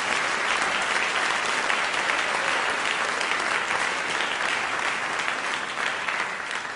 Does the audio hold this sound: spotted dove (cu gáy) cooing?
no